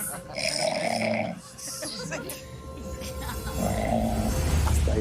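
Loud, rasping snores from a person, a smoker, rise and fall in repeated breaths, mixed with voices talking and reacting over them.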